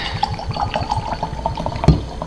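Single barrel straight bourbon whiskey poured from a bottle into a glass, a steady close trickle of liquid with a brief louder splash near the end.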